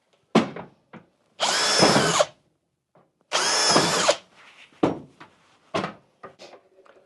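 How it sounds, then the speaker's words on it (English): A power drill with a 5mm bit drilling through the top of a consumer unit whirs in two loud bursts of about a second each, separated by pauses filled with scattered knocks and handling clatter. "with a 5mm drill, just drill through the top of the consumer unit"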